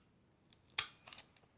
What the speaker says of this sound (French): on va venir avec la crocodile, on va venir faire un trou dans celui qui est tout seul là